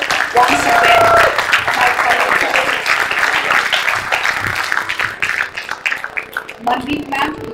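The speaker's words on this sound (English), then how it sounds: "please students give them a big round of applause once again" Students applauding at the close of a certificate distribution ceremony at a higher education conference, steady dense clapping throughout with a voice talking over it.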